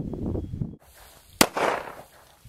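A Regent R200S 1911 handgun fires Corbon Powerball ammunition: one loud, sharp shot cracks out in the middle, then rings off briefly over a low outdoor background.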